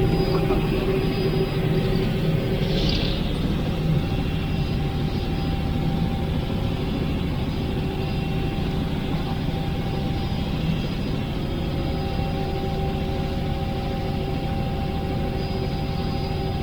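Inside a helicopter cabin flying over Orlando, a loud, continuous engine and rotor drone holds steady throughout, with a faint voice briefly rising under the noise.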